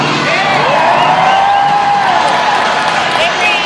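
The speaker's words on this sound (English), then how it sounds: "Cheer him on." Spectators cheer and whoop at the finish of a mud race as a racer crosses the line, a loud, continuous crowd roar under an excited voice talking over it.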